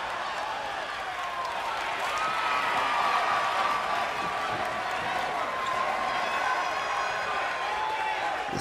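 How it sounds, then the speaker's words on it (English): A wrestling arena crowd in the WWE 2K25 video game cheers and clamors in a continuous, moderately loud roar, with a sustained hum running underneath. "It sounds like the crowd is behind him."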